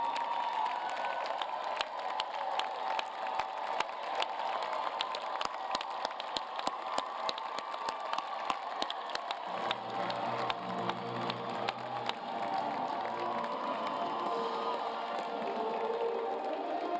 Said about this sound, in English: Will all the graduates stand and cheer them on?